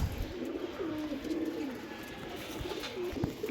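Kasuri pigeons coo softly while being handled, low rolling coos repeating a few times over a faint background hum, close but quiet.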